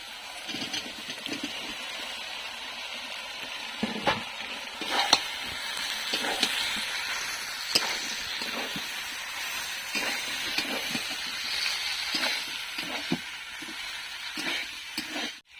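Jackfruit tossed into potatoes frying in oil, a continuous sizzle and hiss with scraping stirring strokes at irregular intervals, close and moderately loud, no talk.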